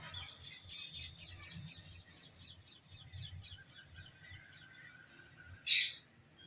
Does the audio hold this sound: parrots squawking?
yes